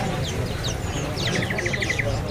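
A Madura dakun white-eye (pleci) at a bird market kiosk gives a quick, high, evenly spaced trill of about a dozen notes, clear above a noisy crowd and chattering birds.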